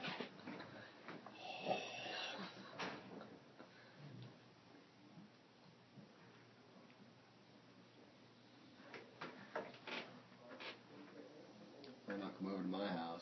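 A voice imitates Darth Vader's breathing with slow, raspy inhale-exhale cycles, quiet and close, with soft clicks and hiss between breaths.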